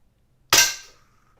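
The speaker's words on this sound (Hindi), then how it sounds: "Let's shoot one more." A Daisy Powerline 901 air gun fires a single sharp, loud crack at close range that decays quickly into silence.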